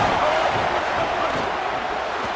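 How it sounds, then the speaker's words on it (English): A college football stadium crowd roars in a dense, loud, continuous wash of noise, with no breaks or individual voices standing out. "This crowd going to try to make life miserable for these guys."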